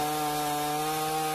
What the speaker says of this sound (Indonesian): merapikan pohon di pinggir jalan dengan menggunakan gergaji mesin